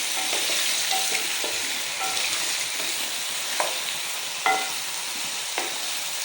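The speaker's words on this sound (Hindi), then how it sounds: "अब हम आलू को तेज़ आंच पे पका लेंगे ताकि ये ज़्यादा गले ना और जल्दी से फ्राई हो जाएं" Thin round slices of medium potatoes fry in a pan over high heat, a steady loud sizzle running throughout with a few sharp clinks and scrapes from stirring.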